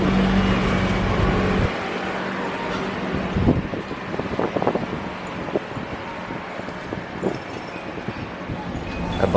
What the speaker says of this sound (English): A bus of some kind is approaching.